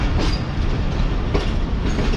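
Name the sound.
Karakoram Express train moving slowly on tracks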